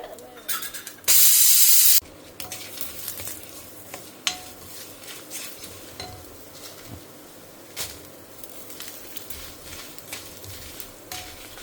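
Dried red chillies fry in a pan for Karnataka-style thili saaru rasam, giving a soft ongoing sizzle with scattered stirring clicks and scrapes, plus one brief loud hissing burst near the start.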